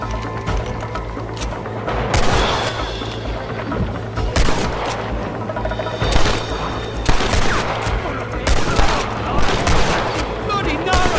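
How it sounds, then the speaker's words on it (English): Gunfire in the Western video game Red Dead Redemption, loud bursts of rapid shots and booms in several clusters over a steady low hum, with voices calling out in between. "Stop shooting at me!"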